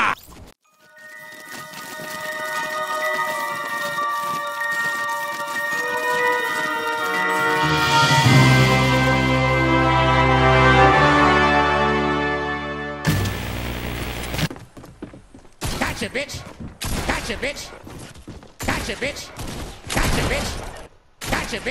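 Rapid bursts of video game gunfire crackle in an action shooter, rising over a swelling musical tone and then breaking into choppy, loud volleys of shots and impacts, with no talking.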